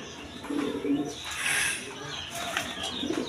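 A pair of Gorra pigeons with pearl eyes coos in soft, low throaty bursts close by, while someone talks over them.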